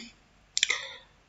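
A computer mouse clicks a few times in quick succession while an automation controller is set up in Siemens TIA Portal for an industrial conveyor, close and crisp against a quiet room.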